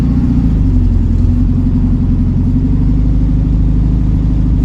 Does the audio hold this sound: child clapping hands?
no